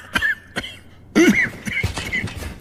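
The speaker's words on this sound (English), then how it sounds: "Let me cure your cough." A person coughs several times in short, harsh bursts, with a brief pause before a stronger cough.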